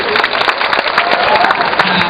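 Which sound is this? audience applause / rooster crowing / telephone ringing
audience applause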